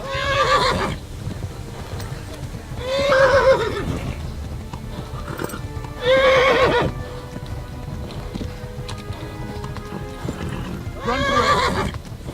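A horse in the Kingdom Come: Deliverance video game neighs loudly four times at regular intervals over a steady galloping clip-clop, close and prominent.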